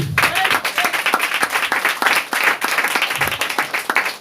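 A church congregation claps loudly and continuously during worship, a thick, close wall of applause with rhythmic pulses throughout and a few voices faintly audible underneath.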